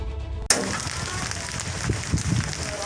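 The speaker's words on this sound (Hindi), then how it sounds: "तस्वीरें बिहार के कैमूर जिले की हैं, जहां सुबह सुबह जमकर बारिश हुई और ओले गिरे।" Heavy rain with hail falls in Kaimur district, Bihar, a dense hissing wash of drops with scattered sharper impacts, starting abruptly after a short cut and continuing steadily at moderate level.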